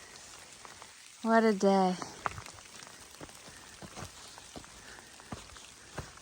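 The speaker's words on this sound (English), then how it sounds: "The sun is out and it's raining." Steady patter of rain falling outdoors while the sun is out, on the Appalachian Trail near Falls Village, Connecticut, with a person speaking briefly over it and scattered drops ticking on surfaces.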